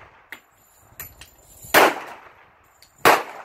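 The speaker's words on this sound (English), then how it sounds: "Shooting at the left target." Several sharp Smith & Wesson M&P pistol shots fired at targets, two loud close cracks standing out among a few fainter pops, spaced irregularly with quiet between them and no talking.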